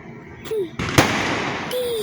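Fireworks bursting at a wedding celebration, with sharp booming cracks and rising whistles, a loud close blast near the middle amid a dense continuous crackle, and faint voices underneath.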